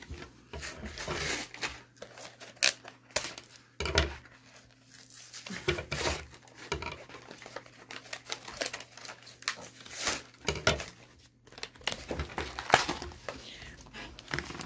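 A Pokémon Sword and Shield booster pack is torn open with repeated sharp crinkling rips and rustling foil bursts, close and fairly quiet, with a few soft words murmured between tears.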